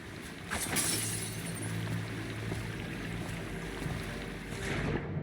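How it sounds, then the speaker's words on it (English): In Dishonored, the player character drops into water with a sudden splash, followed by sloshing, churning water and a muffled, wavy ambience that swells again near the end, with no voices. "I fell in the water."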